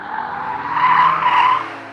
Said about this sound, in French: on peut survirer sur le sec